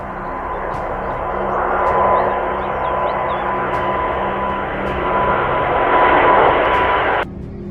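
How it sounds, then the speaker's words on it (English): Loud, sustained roar of an Airbus A350 jet engine with a steady whine during a struggling takeoff on only one working engine at half power, swelling and easing slightly before cutting off abruptly near the end. "This Airbus A350 is struggling to take off because only one of its engines is functioning"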